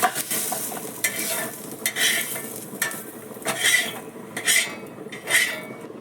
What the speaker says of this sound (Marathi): बघा आपण कांदा भाजून घेऊया आता आपला कांदा भाजलाय